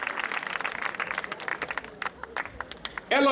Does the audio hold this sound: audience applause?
yes